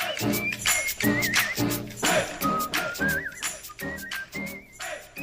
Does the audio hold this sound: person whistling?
yes